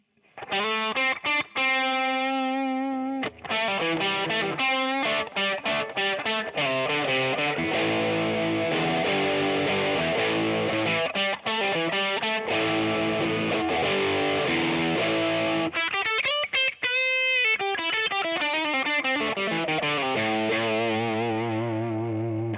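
A Gibson Custom Shop 1959 ES-335 VOS electric guitar played heavily distorted, sustained crunchy chords and bends loud and continuous, with no voices.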